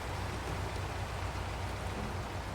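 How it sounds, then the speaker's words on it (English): Rain falling while the sun is out, a steady broadband hiss of drops with a low rumble underneath, unchanging and fairly close for the whole stretch. "It's raining with the sun out."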